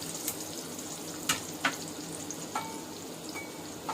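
Chopped garlic frying in a tablespoon of oil gives a soft, steady sizzle with a few sharp pops and crackles scattered throughout, close and quiet.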